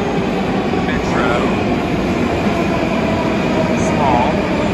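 A Moscow metro subway train rumbles loudly and steadily from inside a car deep underground, its constant roar covering the whole stretch.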